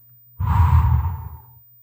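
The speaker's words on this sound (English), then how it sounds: "Breathe out." One long, close breath out, a sighing exhale that starts abruptly, swells, then fades away over about a second, alone with no talk.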